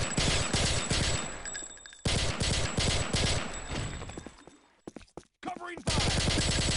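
Rapid bursts of automatic gunfire ring out in the Half-Life: Opposing Force shooter, dense volleys with brief gaps and a sudden cut near the end before firing resumes.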